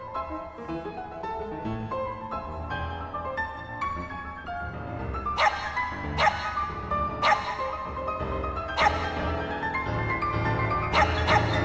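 A dog barks and yips during a magic show act on a televised magic competition stage, with sharp, repeated barks amid stage sound and no clear talking.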